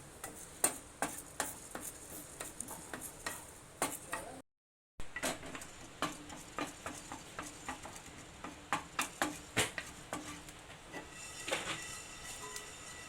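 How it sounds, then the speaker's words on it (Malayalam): Fenugreek seeds roasting in a pan pop and crackle in a steady run of sharp, irregular little ticks over a faint background hiss, with one brief gap of silence. "അപ്പം നമ്മുടെ ഉലുവ പൊട്ടി തുടങ്ങി"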